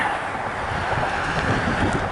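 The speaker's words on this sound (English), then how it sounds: "there's the wind right there" Steady wind blows and buffets the microphone with a broad, rushing roar, constant and close with no voices.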